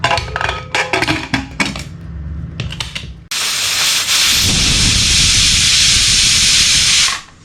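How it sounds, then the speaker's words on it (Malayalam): Steam hisses steadily and loudly on a stove after a pressure cooker whistle while beef dum biryani cooks in a clay pot, following some brief clattering, then cuts off near the end. "ഒരു വിസിൽ വന്നു, ഫ്ലെയിം ലോ ആക്കിയിട്ടുണ്ട്."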